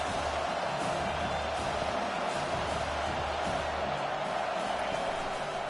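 A stadium crowd at a college football game sustains a steady, dense roar across the whole stretch, with broad noisy wash and no distinct individual voices standing out.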